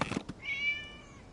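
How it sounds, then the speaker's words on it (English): A single drawn-out meow from a cat in the video game Genshin Impact, clear and fairly close, following a couple of brief soft knocks. "It was just a cat."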